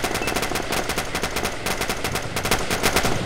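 Sustained rapid autocannon fire from a BMP in a Roblox multicrew tank combat game. Loud, dense bursts of shots close together, with no talk over them.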